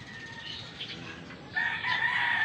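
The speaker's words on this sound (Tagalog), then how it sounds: "Oh, tilaok siya ng tilaok." A bantam rooster crows from atop a high wall beside a house; a steady crow holds throughout, growing louder and stronger about halfway through, with no talk over it.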